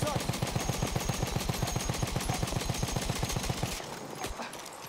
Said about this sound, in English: He turned randomly, shooting because he didn't know from which direction the shots are coming.